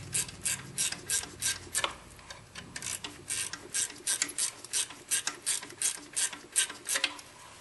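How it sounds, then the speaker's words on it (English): A ratchet clicks rapidly while tightening the alternator adjustment bolt on a 2000 Toyota 4Runner, steady rhythmic strokes of crisp metallic pawl ticks, close and clear with no talking. "we can tighten the adjustment bolt until we get the proper tension"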